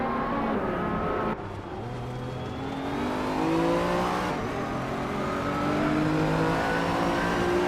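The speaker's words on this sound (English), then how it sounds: "Buster Roy is driving a 1993 Jaguar XJ220S, a lightweight and agile supercar known for its impressive speed and handling" A 1993 Jaguar XJ220S supercar in a video game race, its engine droning loudly and continuously with rising and falling revs as it accelerates through gears, steady throughout without any talk.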